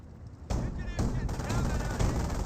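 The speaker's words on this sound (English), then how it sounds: "We are under fire." Company of Heroes combat gunfire erupts as loud, dense bursts of machine-gun and rifle fire after a brief quieter opening, with a voice speaking over the din.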